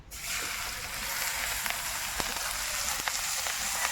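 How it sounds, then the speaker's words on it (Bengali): Dry chillies and whole cumin seeds sizzle in oil already used for frying fish, a quiet steady hiss broken by a few sharp pops and crackles. "মাছ ভাজা তেলে ফোড়ন দেব শুকনো লঙ্কা গোটা জিরে"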